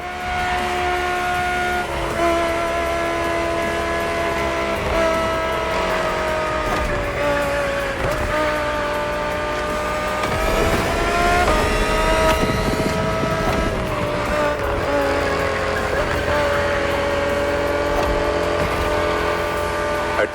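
The 2020 Audi R8 LMS GT2 race car's engine in The Crew Motorfest, a sustained loud engine note that rises and falls through gear changes across the whole stretch, close and continuous with no voices.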